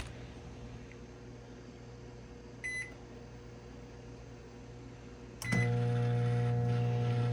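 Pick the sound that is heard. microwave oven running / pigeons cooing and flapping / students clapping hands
microwave oven running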